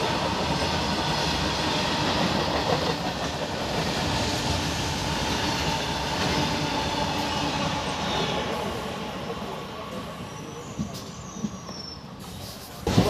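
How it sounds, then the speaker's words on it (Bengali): A Howrah–Masagram local train running between stations in West Bengal, heard from inside the carriage as a loud continuous rumble with rhythmic wheel clatter and occasional squeals, steady throughout with a sharp bump near the end. "বন্ধুরা, আমাদের ট্রেন এখন এসে পৌঁছালো চৌগ্রাম স্টেশনে"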